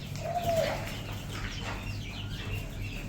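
A dove coos once softly, a short low call over a constant background hum and faint distant bird chatter, with no voices.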